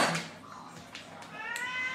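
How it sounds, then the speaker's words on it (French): A female cat meows several times indoors, rising and wavering cries at moderate distance, with a faint voice and a light household knock in the background. "J'ai Niloun qui n'arrête pas de miauler depuis ce matin parce qu'elle est sortie."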